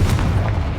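Confringo fire spell blast in Hogwarts Legacy, a short, loud booming burst with a deep low rumble that fills the brief moment.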